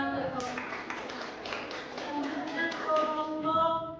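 A class of students in an Islamic cultural history lesson claps for a group, scattered hand claps mixed with overlapping voices and talk, moderately loud and building slightly toward the end.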